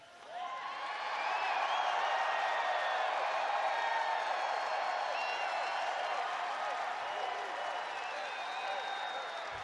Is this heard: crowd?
yes